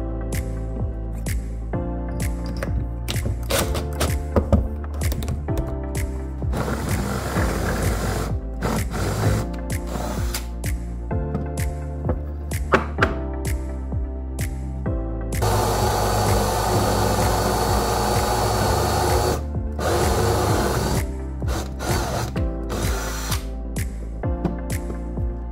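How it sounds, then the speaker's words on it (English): A drill bores 1 3/8-inch and 5/8-inch holes through a wooden piece, whirring in several separate bursts with short pauses between them. The drilling is close and fairly loud, and no one talks over it. "I want to drill a 1 3/8 hole in the middle, and then a 5/8 hole on both ends here"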